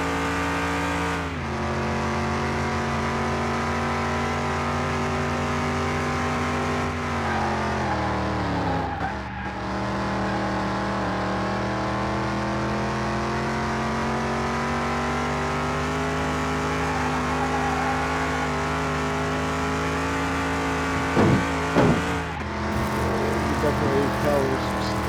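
A simulated race car laps a track in the game Car Mechanic Simulator 2021. Its engine drones continuously, loud and close, with pitch dropping and rising through gear changes. Brief tire chirps come near the end, and a voice talks over it.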